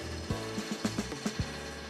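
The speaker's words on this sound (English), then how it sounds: "My oven does that when it's preheating." A kitchen oven preheating gives a series of about six quick mechanical ratcheting clicks over a steady low hum, close by and fairly quiet, with no talking.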